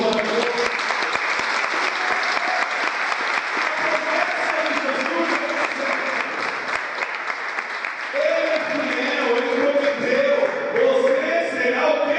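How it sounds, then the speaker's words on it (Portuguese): Church congregation applauding during a sermon, a sustained loud roar of clapping that runs the whole time, with voices and what sounds like singing rising over it in the latter part. "Dê uma salva de palmas para esse Jesus."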